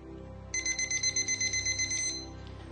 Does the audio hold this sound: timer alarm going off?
yes